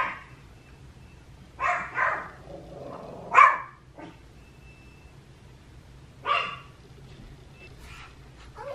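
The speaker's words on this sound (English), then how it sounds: "the dog's gonna bark" A dog in a house barks a few times, with short yips spaced apart over quiet room tone, heard at moderate distance.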